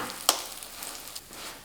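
A scallion pancake fries in an oiled pan with a soft, continuous sizzle, close and fairly quiet, with one brief sharper crackle near the start.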